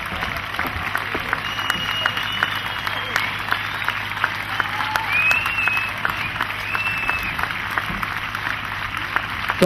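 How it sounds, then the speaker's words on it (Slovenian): Warm, sustained applause from an audience for ballet dancers at a concert with a choir, a dense steady wash of clapping that runs the whole length with a few faint voices mixed in. "Topel aplavz zdaj je namenjen za njihovo razdajanje"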